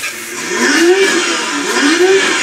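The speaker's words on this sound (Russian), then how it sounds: "Ну иди газуй, Слава, дай прогреться ей" A Cadillac's carbureted-distributor, throttle-body-injected V8 is revved while warming up, with two rising, swelling engine pulls close by and a steady mechanical hum in between.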